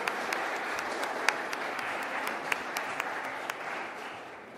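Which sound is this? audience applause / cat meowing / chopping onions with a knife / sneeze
audience applause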